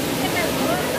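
Water rushing at Malaguicay Falls, a river waterfall in Abuyog, Leyte, where people are swimming; a steady, loud broadband roar of falling water fills the whole second without pause.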